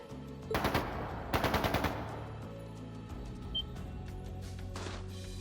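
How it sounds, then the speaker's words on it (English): Two quick bursts of rapid gunfire in the video game Trails of Cold Steel II, fairly distant, followed by a low hum of background noise. "That sounded like gunfire."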